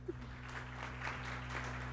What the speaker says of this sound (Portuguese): Palmas para a Luciana mais uma vez.